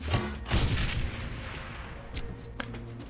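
Gunfire in the video game Shadowrun: Hong Kong: a few sharp, booming shots with lingering rumble, fairly loud and close, spaced irregularly across the moment with no talking.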